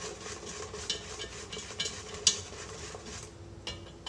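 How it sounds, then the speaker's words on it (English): Strawberry gelatin mixture boiling in a pot while being stirred, with soft bubbling and scraping under a few faint clinks of a utensil against the pot. "Just kind of want to keep stirring it."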